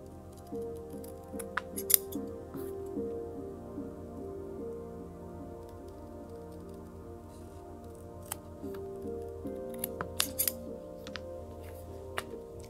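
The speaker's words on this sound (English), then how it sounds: "It does a really good job of holding onto the leather while you cut." Micro serrated sewing scissors snip through leather for a small key pouch, giving soft, close, intermittent clicks and cuts in a quiet room.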